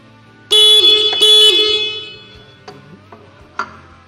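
Two loud, shrill electric horn blasts from a Honda Vario 150 motorcycle horn wired through a relay, in close succession, near and bright, followed by a few faint clicks and knocks.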